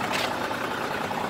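A Mitsubishi Fighter truck idling at a harbor, a steady diesel rumble close by, partly blended with strong wind noise, with no talking.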